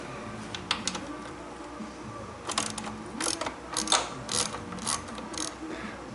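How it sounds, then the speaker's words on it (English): A 10 mm wrench loosens three bolts on a Kawasaki Ninja 650 rear fender during a Yoshimura fender eliminator install, giving close, quiet metallic ratcheting clicks in short irregular bursts. "you're going to use a 10 mil to loosen the 3 bolts"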